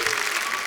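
Studio audience at The Kapil Sharma Show, a Hindi TV comedy show, breaks into a brief, loud, dense burst of clapping.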